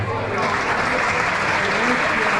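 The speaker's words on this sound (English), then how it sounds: "So I'd like to applaud the other honorees tonight, please." Steady, dense clapping from an awards ceremony audience fills the whole stretch, with some voices mixed into the noise.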